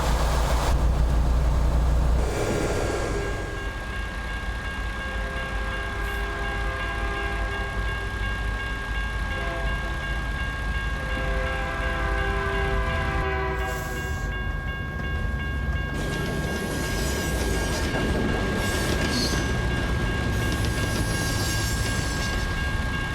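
A long train rolls past for over twenty seconds, a continuous heavy rumble with sustained horn-like tones and rail clatter that shifts texture partway through.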